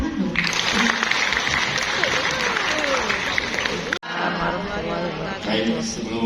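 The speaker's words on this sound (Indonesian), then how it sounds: "Tepuk tangan dong." An indoor audience at a teachers' workshop in Batam applauds loudly and continuously, a dense clatter of many hands with crowd murmur, briefly dipping before picking up again.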